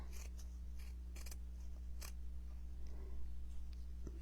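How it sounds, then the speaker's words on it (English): Scissors snipping craft material while trimming a birthday gnome, a few sharp, quick cuts spaced irregularly over a steady low electrical hum. "So I'm just going to cut that off."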